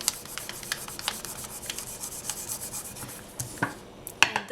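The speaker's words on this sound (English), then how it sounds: "just going to burnish that so that it flattens it out." Polymer clay being burnished flat on a sheet of plain printing paper gives a close, dry rubbing and rasping, with irregular short strokes and a few sharper scrapes toward the end.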